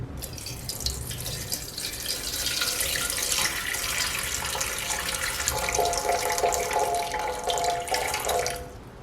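Water pours in a steady, splashy stream into a bread maker pan set on a kitchen scale, running continuously for several seconds before stopping.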